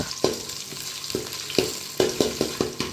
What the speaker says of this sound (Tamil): கருவேப்பிலை எடுத்து போட்டுட்டு கரண்டி எடுத்து கொஞ்சம் வதக்கிட்டே இருங்க